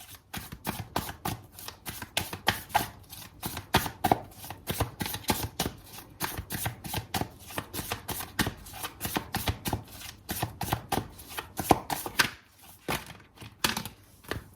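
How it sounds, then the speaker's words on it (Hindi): Tarot cards are drawn and shuffled from a deck: a long run of rapid, crisp card flicks and riffles, close and fairly quiet, with brief pauses between bursts. "हम स्टैक से निकाल लेते हैं कार्ड"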